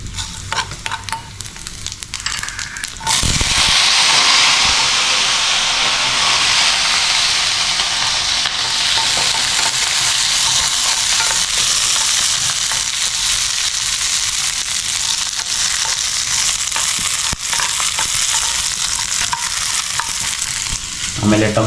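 Masala ingredients frying in a couple of spoons of oil in a kadai and being stirred, a loud, steady sizzle running almost continuously after a brief quieter start, with scraping stir strokes throughout and no talking.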